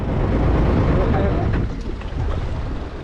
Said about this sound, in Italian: il suono della natura coperto solo dai motori delle imbarcazioni